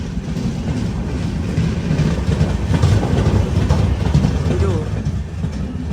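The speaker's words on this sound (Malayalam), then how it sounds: "തിരൂർ റെയിൽവേ സ്റ്റേഷനിലേക്ക് ഇതാ നമ്മുടെ ട്രെയിൻ എത്തിക്കൊണ്ടിരിക്കുകയാണ്" A Mangala Lakshadweep Express train arriving at Tirur railway station, heard as a loud, steady low rumble and rolling rattle of the carriages, continuous and close throughout.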